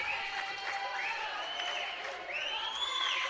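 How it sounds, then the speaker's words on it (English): A volleyball crowd at an NAIA national championship match chants the Olay cheer for the Vikings on defense, a sustained sung chant from many voices echoing through a gym. "Vikings with the Olay cheer on defense"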